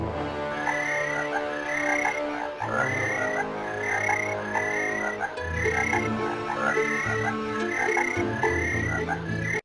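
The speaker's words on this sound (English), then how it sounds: "Jump scare from the frog." A frog croaks in the Alone in the Dark video game, repeating loud, raspy calls at a steady rhythm over a droning, layered ambient music bed with no voices.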